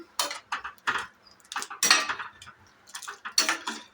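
A spoon stirs sambar powder and chilli powder into a ridge gourd kulambu in a metal pot, making close, repeated scraping clinks in short rhythmic bursts with no talking.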